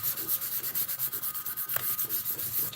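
Steady back-and-forth rubbing of 320 grit sandpaper gently scuffing a fully cured painted bike frame, a close, even rhythmic hiss with regular strokes and no talking.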